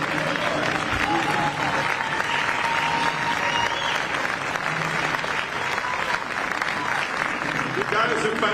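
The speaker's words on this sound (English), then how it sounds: "Let's give them a quick applause." A crowd at an election summit applauds heartily, with sustained, dense clapping and some cheering that stays loud throughout, while a few voices are heard faintly beneath.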